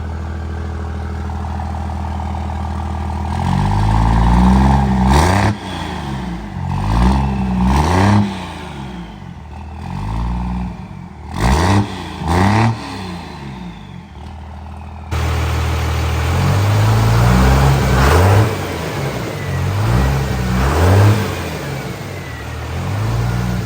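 A heavy diesel engine, a second-generation Cummins on first startup and break-in, revs repeatedly, rising and falling in deep roaring surges, close and loud, with idling rumble between the bursts.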